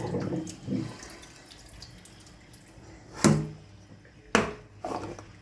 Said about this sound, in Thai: เทน้ำทิ้งเลย